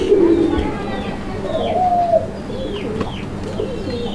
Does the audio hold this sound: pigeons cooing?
yes